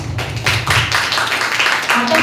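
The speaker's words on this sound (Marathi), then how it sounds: "टाळ्या वाजवा देवाला." An audience claps for God at a Marathi church gathering, a dense burst of hand claps lasting about two seconds, loud and close, with a voice speaking over it.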